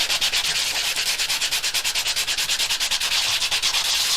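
Rapid back-and-forth hand sanding of a coaster with sandpaper, a steady rhythmic scratchy rasp of quick even strokes, close and fairly loud, with no talking.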